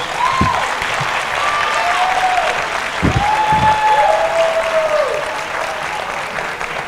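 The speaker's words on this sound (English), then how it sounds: "Let's give them a good round of applause." A crowd at a school graduation applauds steadily throughout, dense clapping filling the room, with a few faint whistles or voices rising above it.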